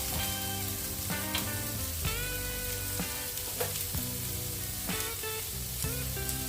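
Spice masala fried in a pan for a Tulunad chicken curry gives a loud, constant sizzle, broken by periodic scraping strokes of stirring close by.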